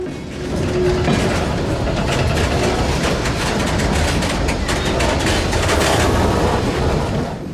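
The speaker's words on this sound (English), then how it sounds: "Today's train, Z951, is powered by none other than the railroad's two ex-Canadian National GP9RMs" Freight train Z951 rolls past behind two ex-Canadian National GP9RM diesel locomotives, a steady, loud rumble of engines and wheels that holds for several seconds, with faint rail clatter mixed in.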